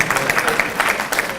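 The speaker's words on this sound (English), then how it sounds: "the parents are the ones who are clapping" Parents in an audience at an ASU Center for Educational Opportunity event clap and applaud, a dense burst of hand claps with a voice speaking through it.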